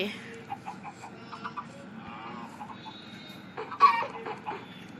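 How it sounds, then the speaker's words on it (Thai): Chickens cluck in a Minecraft farm, a few short clucks and squawks scattered over a steady low background, with a louder burst near the end. "เยอะนะครับ เนี่ยไก่"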